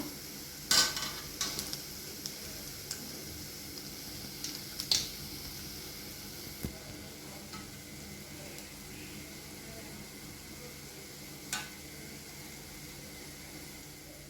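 Vegetable bondas frying in a pan of hot oil give a steady, soft sizzle with a few sharper pops and clinks near the start, and no one speaks.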